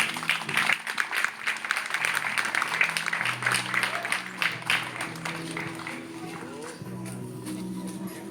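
A church congregation claps for God during a marriage testimony, a burst of loud applause that fades over several seconds while voices continue.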